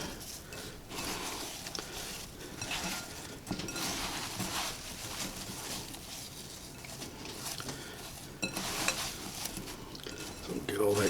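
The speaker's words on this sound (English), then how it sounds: "we'll just give that a quick mix with our fingers" Fingers quickly tossing apple crisp filling in a bowl give a soft, continuous wet stirring and squelching with faint patter, close and steady throughout.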